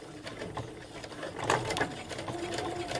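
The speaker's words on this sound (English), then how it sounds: "This machine is again gonna do the sew up for me first." A sewing machine stitches around a curved fabric edge, a close, steady motor hum with rapid needle clatter running continuously at low volume.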